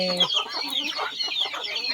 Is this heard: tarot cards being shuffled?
no